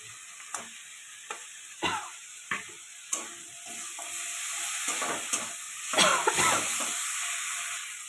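Cumin powder and fried fish fat frying in oil in a pan, a steady close hiss and sizzle broken by scattered sharp pops and scraping stirs, swelling louder near the end.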